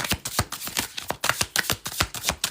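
Tarot cards being shuffled up close, a quick repeating run of papery riffles and flicks, steady and fairly loud, with no voices.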